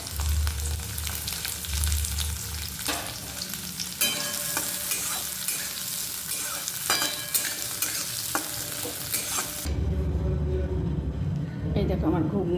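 Whole cumin, onion and ginger-garlic paste fry in hot oil while being stirred, making a continuous crackling sizzle with scrapes and clinks. A voice talks intermittently over it, and the frying surges louder near the end.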